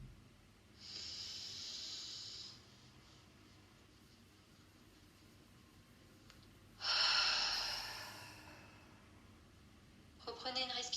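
Slow, deep breaths during a guided sophrology relaxation session: two long, soft airy exhalations, a quiet pause between them, and a fresh breath starting at the end.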